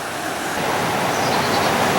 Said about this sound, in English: River's still up a little.